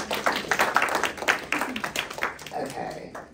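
Audience at an Indianapolis book launch claps for the author Richard, a moderate burst of individual claps that thins out and fades toward the end.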